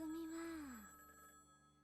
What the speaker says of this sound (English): From far away, I heard the ear-grating ringing of the telephone.